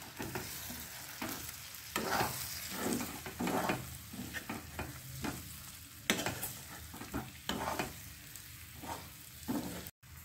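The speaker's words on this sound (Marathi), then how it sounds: "आता ते मी मसाल्यामध्ये घालून चांगले परतून घेते." Eggs stirred and fried in Malvani masala for an egg masala dish, with a steady close sizzle in the pan under repeated scraping spoon strokes against the pan in an irregular rhythm.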